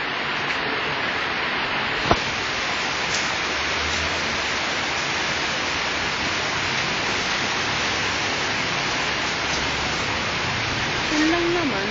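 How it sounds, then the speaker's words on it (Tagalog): Rain falling outside in a flooded subdivision on a windy day, a constant broadband hiss with no breaks, steady and fairly loud throughout, with a brief knock near the start. "normal na ulan lang to dito"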